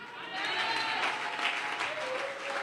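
Church congregation applauding and cheering during a deliverance service, a steady, loud wash of clapping and voices that holds for nearly three seconds without a break.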